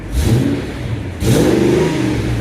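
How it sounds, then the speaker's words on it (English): A Mercedes W211 E500 V8 engine with long tube headers and an AMG exhaust revs hard with a rough, raspy exhaust note from an exhaust leak, dipping briefly before surging again, loud and close throughout. "It has a really bad exhaust leak on start"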